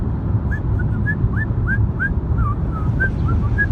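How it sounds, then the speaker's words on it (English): A person whistling a light, bouncy tune of short rising notes while driving, the whistle clear over a steady low road and engine rumble inside the car. "Little driving whistling."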